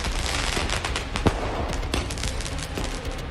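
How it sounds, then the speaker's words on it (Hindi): Diwali firecrackers and fireworks exploding late at night in Lucknow, a loud, dense barrage of rapid crackling bangs that runs continuously with a sharper pop standing out, no voices. "लखनऊ में भी खूब आतिशबाजी देर रात तक देखने को मिली।"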